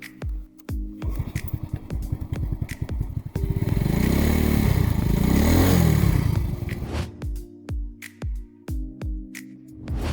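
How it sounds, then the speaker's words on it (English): Shineray Spring X 50cc motorbike kick-started: several loud clattering kicks in a steady rhythm, then the small engine catches and revs for a couple of seconds before dropping to a ticking, uneven idle, close by. "You can also start the bike with the Kickstarter."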